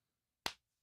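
A single sharp hand clap, close and crisp, standing alone in near silence.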